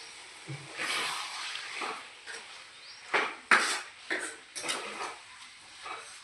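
Chicken curry is stirred in a pot, with several scraping, clinking strokes of a spoon against metal, close and moderately loud, in irregular bursts.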